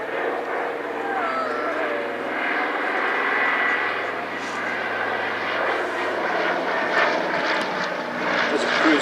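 A Consolidated PBY patrol bomber flies past at the Midland Air Festival 2018. Its aircraft engines make a loud, steady drone that fills the whole stretch, and a voice talks over it throughout.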